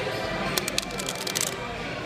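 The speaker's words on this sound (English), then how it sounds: "I want you to shuffle those cards some more, overhand shuffle, Hindu shuffle" A deck of playing cards is shuffled with a quick burst of crisp riffling flutters in the middle, while a person talks throughout.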